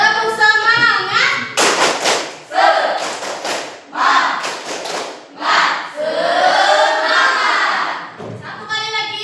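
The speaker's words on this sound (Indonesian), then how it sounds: "Kalau yakin, kita tepuk semangat dulu ya." A class performs the tepuk semangat clapping chant, rhythmic bursts of group claps alternating with loud chanted voices, close and energetic.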